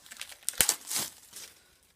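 Plastic wrap being torn and crinkled off a K-pop album, a few sharp close rips and crackles in quick succession over about two seconds, with no voice.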